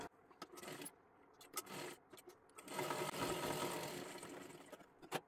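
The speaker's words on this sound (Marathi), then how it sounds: "इथून शिलाई घ्यायची आहे आणि खालीपर्यंत पूर्ण इथपर्यंत आपल्याला सरळ शिलाई मारत मारत घ्यायचं आहे" A sewing machine runs a straight seam down a girl's dress, the motor whirring in bursts with short stops between runs, then a longer steady stretch of stitching near the end; no one speaks.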